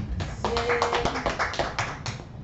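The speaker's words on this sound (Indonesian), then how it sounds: "Tepuk tangan Bu Adi." A small group in an indoor meeting claps together, a brief burst of close, dry hand claps lasting about two seconds with little else around it.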